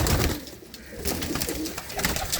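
Spotted racing pigeons, a high-flying breed, coo softly and repeatedly close by against a dense, noisy background.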